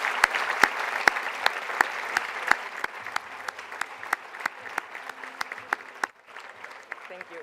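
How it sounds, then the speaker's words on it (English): Audience applause at a university closing ceremony, a steady, moderately distant patter of many hands with sharper individual claps standing out, thinning near the end as a voice begins. "please, a big clap for all the faculty that has been with us from the very beginning"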